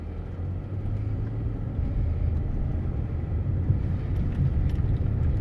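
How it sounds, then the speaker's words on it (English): Steady low road rumble from inside a car driving through Grand Rapids at night, continuous engine and tyre drone that swells slightly after the second mark, with no talking. "Traffic's getting a little dicey, so I'm gonna have to focus more on that"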